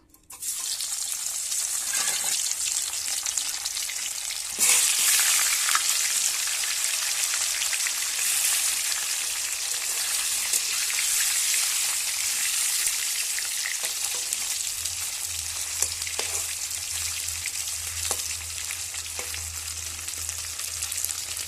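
Tilapia fish frying in hot oil in a wok, a loud, steady crackling sizzle that runs throughout with occasional sharper pops and a low hum rising near the end; no voices.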